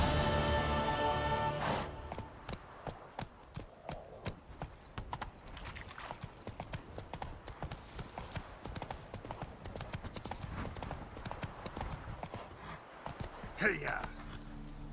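Roach the horse in The Witcher 3 trotting along with steady, crisp hoofbeats, clip-clop repeating throughout under game music, with voices talking over it at times.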